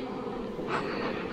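Honey bees hum at a beehive in a short, continuous buzzing drone close by, with a slight swell in the middle.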